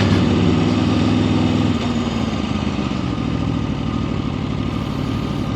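A 2026 Aprilia RSV4 Factory motorcycle engine roars steadily up close, its rough, throbbing tone shifting pitch partway through as it pulls forward.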